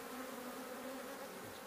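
Honey bees buzz close by over hive frames during a frame-to-top-bar hive conversion, a steady droning hum with no talk.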